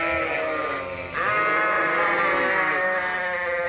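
Ewes bleat repeatedly indoors in a sheep barn, loud overlapping calls rising and falling with a short dip before the chorus swells again.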